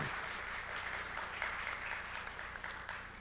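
Quiet, distant applause from the audience at a Smart Construction Day 2022 panel discussion, a steady even patter of clapping with no voices over it.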